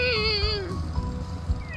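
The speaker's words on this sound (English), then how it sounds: "Sad kitty noise intensifies." A cat meows sadly in the video game FFXIV, one drawn-out wavering mew that falls in pitch over about a second, over a low background rumble.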